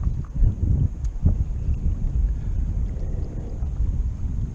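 Strong wind buffets a small boat in a marsh, making a steady, loud, low rumble against the microphone that does not let up.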